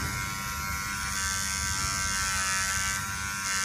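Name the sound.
electric hair clipper cutting hair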